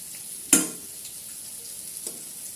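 Food frying in a pan gives a quiet, steady sizzle, broken early by one sharp clatter of a utensil and later by a softer knock, with no one speaking.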